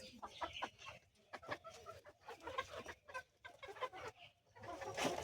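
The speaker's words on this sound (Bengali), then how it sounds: "মুরগি ধরো মুরগি ধরো।" Farm chickens clucking repeatedly at close range, with irregular bursts of clucks and squawks continuing throughout against a low background rumble.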